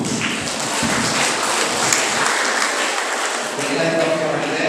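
Broad, steady applause from an audience at the close of a 2023 PGRI teachers' seminar in Kubu Raya, Indonesia, filling the room continuously with a voice speaking over it.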